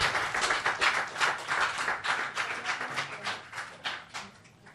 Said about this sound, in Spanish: Denle un aplauso al Señor, claro que sí.